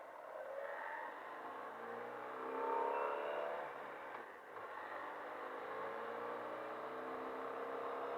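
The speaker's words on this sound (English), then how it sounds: "am I going too slow for second gear? I don't want to be driving down here in first." A car engine revs and pulls in a low gear while driving, a moderate whirring drone with rising tones that swells briefly, dips, then carries on steadily, with no talk.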